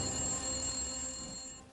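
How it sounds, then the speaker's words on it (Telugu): A telephone rings with a steady, electronic bell-like tone, fairly quiet and continuous before it cuts off near the end. "ఫోన్ మళ్ళీ మోగుతుంది చూడు"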